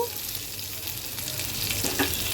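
Pre-fried taro and potato hit hot oil with cumin seeds and bay leaf, a dense close hiss of frying that swells slightly near the end, no speech.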